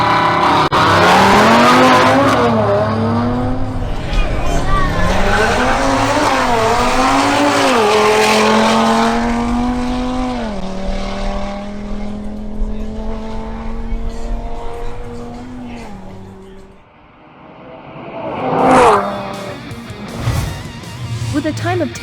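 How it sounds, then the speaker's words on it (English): An Audi RS3 making a drag racing run, engine roaring loud through repeated rising gear pulls with tire squeal, then fading and returning as it passes, with an announcer talking over it. "Next, the Audi RS3 driven by Pedro Mogollon makes its run."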